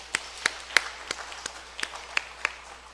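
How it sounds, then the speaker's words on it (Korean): A congregation at a New Year's Eve church service gives scattered, sparse claps, a few distinct hand strikes spaced across a quiet, reverberant room. "함께 또 축복의 박수를 해주시기 바랍니다"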